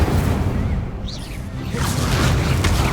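Incendio fire spell cast in Hogwarts Legacy, a loud roaring whoosh of flame with a booming low rumble, continuous for several seconds with a brief swirling sweep in the middle.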